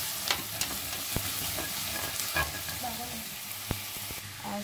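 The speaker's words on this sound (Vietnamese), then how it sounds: "Khi các bạn thấy cái phần đường nó chuyển sang màu nâu cánh gián rồi thì các bạn sẽ cho cái phần hành khô vào," Dried shallots frying in caramelized brown sugar in a pot for coconut braised pork, a steady close sizzle with occasional sharp spatters and stirring knocks throughout.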